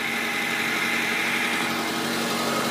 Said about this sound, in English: Beautiful sounding motor,